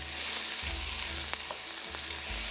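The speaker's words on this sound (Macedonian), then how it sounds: "Ајде, сега празот оди на пржење." Leeks fry in a well-heated pan for a winter soup, giving a steady close sizzle with occasional stirring clatter and low bumps, no voices.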